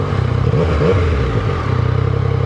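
A Yamaha MT-09 Tracer's engine pulses loud and close, its throbbing note rising briefly in a quick rev before settling back into a steady rhythmic chug.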